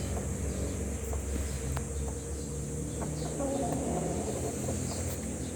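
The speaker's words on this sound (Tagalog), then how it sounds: "So yan yung native chicken natin." Native chickens, a cross with Rhode Island Dark Mahogany, cluck softly at a farm under a steady hum of insects, with a few low calls in the middle of the clip.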